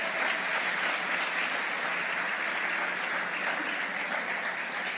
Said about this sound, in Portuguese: vocês vão dar uma salva de palmas para esse grupo aqui também